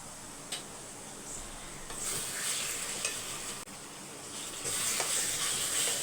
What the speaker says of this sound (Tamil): தக்காளி தொக்கம் மிக்ஸ் பண்ணி விட்டுருங்க